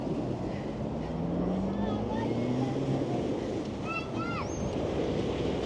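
Sea waves wash and roll down the stone steps of Blackpool promenade in February, a broad, surging roar with gentle swells. Faint voices and brief high chirps drift over it.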